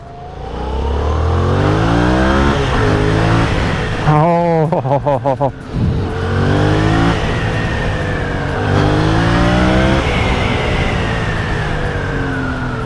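A Yamaha MT-07 motorcycle engine accelerates through several surges, its revs climbing and dropping, close and loud, while someone talks over it.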